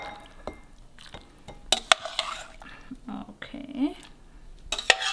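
Clear Thai shrimp soup, tom yum goong nam sai, is ladled into a bowl over lime, with scattered metallic clinks of ladle and dish, light splashing and pouring, and soft sounds nearby.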